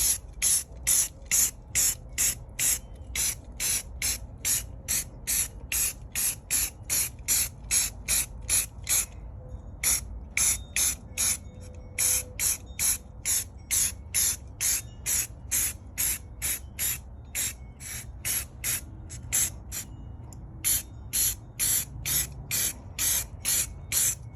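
A first coat of spray paint goes on in quick, evenly spaced hissing bursts, dozens of short sprays close to the listener with brief gaps between them, and no talking.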